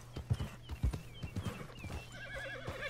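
A horse in Red Dead Redemption 2 trots with crisp, close hoofbeats, then gives a wavering neigh near the end.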